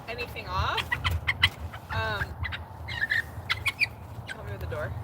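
Rooster with his flock of hens, several birds clucking and giving short squawks and rising calls at close range, irregular and overlapping, with low background rumble.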